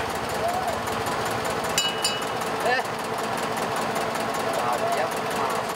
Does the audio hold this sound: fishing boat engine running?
yes